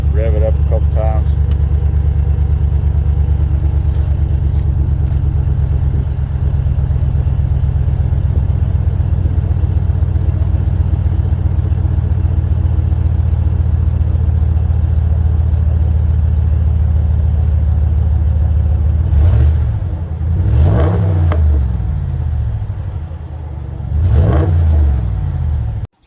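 A 2022 Ram 1500 Limited with a 5.7 Hemi eTorque and a 6-inch Total Flow muffler delete idles loud and deep nearby, then revs sharply twice near the end, each rev rising and falling back to the rumble.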